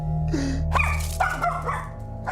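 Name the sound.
dog barking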